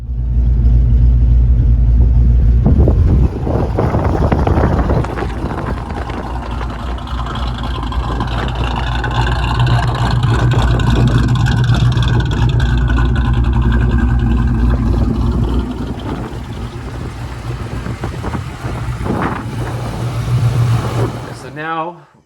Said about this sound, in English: So this is just the car out there idling and driving around